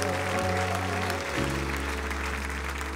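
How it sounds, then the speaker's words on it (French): Church congregation applause rises as a steady wash of clapping over sustained organ or keyboard chords, loud and continuous throughout with no voices standing out. "Et un grand applaudissement pour le Dieu qui est vivant et vrai."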